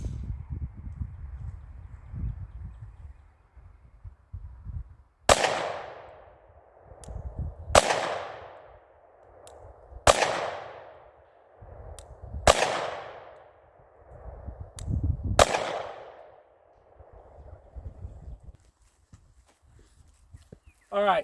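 Sig P365 pistol firing 85 grain frangible copper bullets at an outdoor range: five sharp, loud shots spaced a couple of seconds apart, each with a ringing decay, with wind noise between them.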